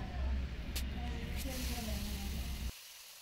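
Boiled chana dal fries in hot oil in a home kitchen, giving a steady low sizzle and hiss with a couple of sharp sputters. It runs under a voice, then stops abruptly near the end.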